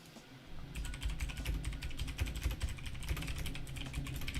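Fast, steady typing on a computer keyboard rattles close and clear in a continuous stream of crisp key clicks, with no talking.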